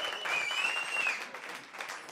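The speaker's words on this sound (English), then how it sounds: "Give them another round of applause." Studio audience applause after a live hip-hop performance on a radio show, a steady close clapping wash with a whistle rising above it early on, then easing slightly.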